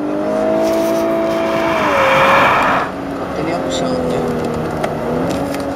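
A Lexus LC500h 3.5-litre V6 hybrid sports car engine revs loudly on a circuit, rising and shifting in pitch as it accelerates, with a steady droning tone throughout.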